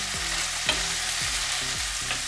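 Ground beef for beef flautas fries in a pan with a loud, dense, even sizzle, broken by a few clinks of stirring over faint background music, with no talking.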